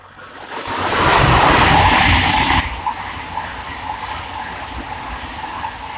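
A Class 800 Hull Trains unit on a London King's Cross to Stirling service races past on the East Coast Main Line at Welham Green, a loud, close roar swelling for about two seconds before dropping to a lighter trailing rumble.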